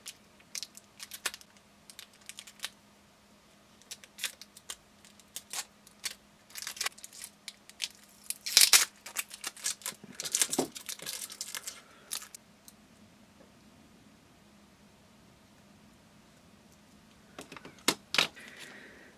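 Kapton tape peeled off a failed lithium polymer battery pack, a series of faint, close crackling rips in short bursts, with a louder stretch of tearing midway and a last quick pull near the end.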